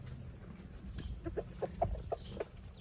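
Chickens cluck and squawk in a short series of brief calls, moderately close, over faint outdoor background noise on a homestead where they eat goat feed.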